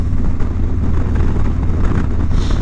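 Motorcycle ride with heavy wind buffeting the microphone, a loud continuous low roar and rumble that drowns out everything else.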